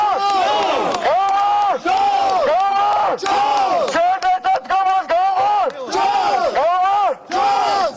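A large crowd of anti-government protesters in Georgia shouts rhythmic chants in unison, the voices loud and close, rising and falling in repeated bursts over about eight seconds.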